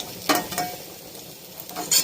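Fish frying in oil in a pan, a moderate steady sizzle broken by a few scraping stirs of a utensil, close and alone with no talk.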